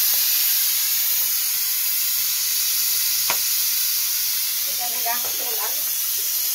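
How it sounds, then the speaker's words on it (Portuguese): Steady, loud sizzling hiss fills the whole clip, with a brief soft clatter near the end as beans drop into the hot pot. "Olha o feijão caindo"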